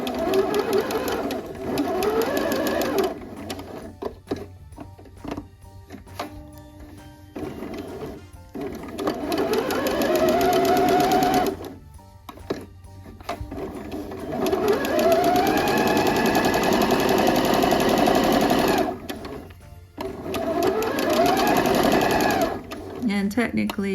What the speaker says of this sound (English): inside of the raw edge, and make sure to back stitch.